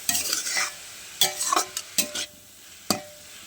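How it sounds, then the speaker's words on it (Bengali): Cabbage curry with turmeric powder stirred in a pan, crisp spatula scrapes and taps against the metal in irregular bursts over a faint sizzle, close and quiet, no speech. "আর একটু হলুদের গুঁড়া অল্প পরিমাণ দিয়ে একটু নাড়াচাড়া করে দিব।"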